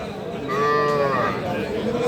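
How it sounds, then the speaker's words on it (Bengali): A Sahiwal heifer calf lows once, loud and close, in a drawn-out moo at a busy cattle market, with faint crowd chatter around it. "বকনা বাছুর, শাহিওয়াল।"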